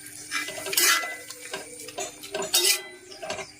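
A spoon scrapes and clinks against a pot while stirring a mixture of spice, asafoetida and vinegar, with irregular metallic knocks and a couple of louder scraping bursts, close up and without talk.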